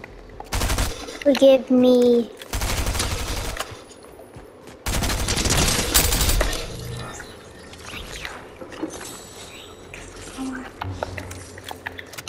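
Rapid bursts of gunfire from a gun in Fortnite during a Star Wars event, loud broadband volleys in a few separate bursts, with a player talking between them.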